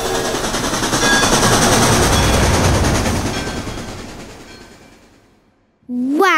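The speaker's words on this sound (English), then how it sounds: "Wow, that train was so fast." A train sound effect thunders in loud and close, its clattering rumble slowly fading to silence over several seconds before a voice begins speaking.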